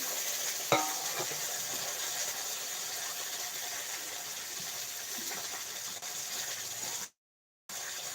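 Sea fish cooking in a pan gives a steady, broad sizzle throughout, with a sharp clink near the start and a brief cut to silence toward the end.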